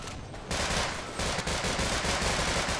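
Rapid automatic gunfire from turrets in the game Half-Life: Sven Co-op, a dense continuous rattle of shots that grows louder partway through, with no talking.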